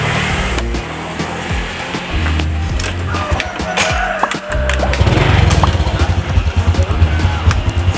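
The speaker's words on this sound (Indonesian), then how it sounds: "ini sudah saya hidupkan ya teman-teman motornya" A motorcycle engine, just started while a battery and lighting fault is being checked, runs close by with a steady rattling idle that grows louder and rougher toward the end.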